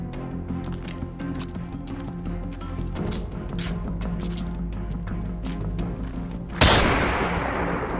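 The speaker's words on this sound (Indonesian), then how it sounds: "Jenderal Malabi tewas ditembak pejuang Indonesia." A loud gunshot effect bursts out near the end of a short film about the 1945 Battle of Surabaya, breaking through steady music and background sound.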